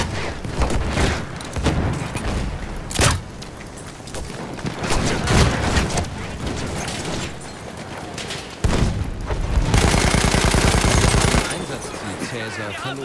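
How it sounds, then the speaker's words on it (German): Bursts of enemy machine-gun fire and other gunfire pound through a Battlefield 1 battle, with rapid rattling volleys, louder close bursts and a sustained loud stretch near the end, while people talk underneath. "Da, feindliches Maschinengewehr."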